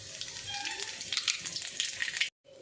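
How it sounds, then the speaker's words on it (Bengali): Nigella seeds and a dried red chilli crackle and sizzle in hot oil that was used for frying fish, with a steady close spitting hiss that cuts out abruptly near the end. "তেল গরম হয়ে গেছে, আমি এখানে কালো জিরা আর একটা শুকনো লঙ্কা দিয়ে দিব।"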